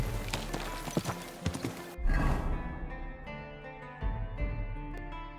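Hooves clip-clop from a horse being ridden in Kingdom Come: Deliverance II, with a brief whinny partway through and light background music.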